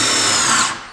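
A power drill drives self-drilling screws in a short, loud, steady whir that drops off at the end, with no talking.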